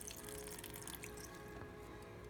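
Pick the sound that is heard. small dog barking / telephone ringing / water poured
water poured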